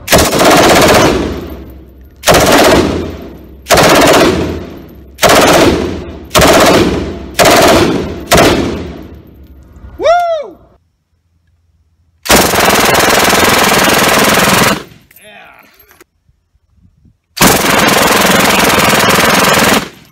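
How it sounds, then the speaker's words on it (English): Two World War II era MG42 machine guns fire in a series of loud, very rapid bursts, each a couple of seconds long, followed later by longer sustained bursts with brief gaps between them. "They're both World War II era MG42s."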